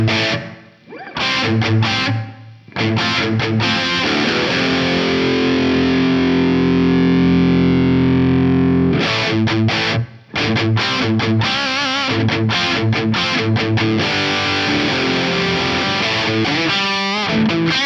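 Electric guitar run through a BOSS Waza Tube Amp Expander with a light room ambience effect, Studio 2 setting, playing distorted chords and a sustained held chord, with brief pauses between phrases, loud and close.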